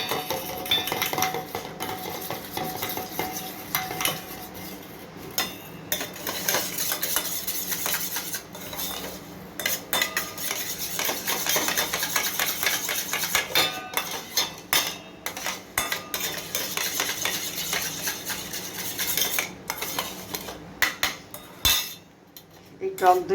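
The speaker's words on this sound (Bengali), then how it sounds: "এখন এই টক দইটাকে, এটা আমার ঘরে পাতা টক দইটাকে ফেটিয়ে নিতে হয়।" Homemade sour yogurt is whisked in a bowl, giving a long run of quick metallic clinks and scrapes against the bowl in uneven bursts with brief pauses, close and moderately loud.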